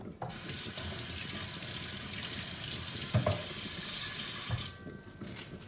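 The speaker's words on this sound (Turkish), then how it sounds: "bu içerisinde kalan en sonuncuyu daha döküyorum ama çok dibine dökmüyorum" Homemade licorice sherbet (meyan şerbeti) poured out to the last portion, a steady close liquid splashing and trickling for several seconds, with a brief clink near the middle and the flow easing off toward the end.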